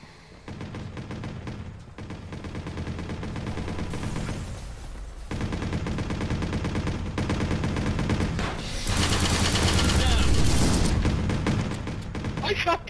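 Sustained bursts of rapid video game gunfire, loud and dense, with brief pauses between volleys and a heavy stretch of fire near the end.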